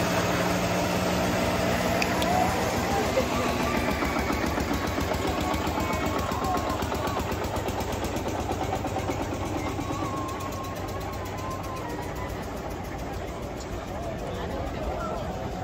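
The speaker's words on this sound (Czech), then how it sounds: "Ale motor z 250 z Javy." A steady Jawa 250 motorcycle engine drones and idles throughout, with a crowd murmuring and voices talking over it at a harvest festival procession.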